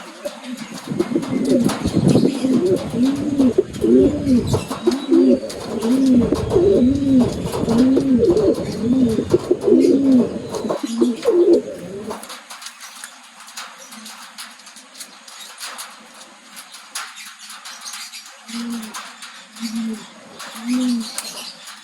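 Racing pigeons cooing close by in a loft, a dense run of rhythmic throaty coos for the first twelve seconds, then quieter scattered coos near the end.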